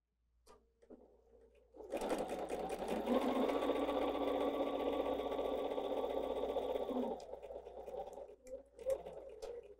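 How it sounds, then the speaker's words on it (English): Sewing machine stitching quarter-inch seams through fabric: a steady, close mechanical whirring run of about five seconds, with quieter handling clicks before and after. "Let's go sew those quarter inch seam allowances again, keeping an eye on that point to make sure our needle passes through."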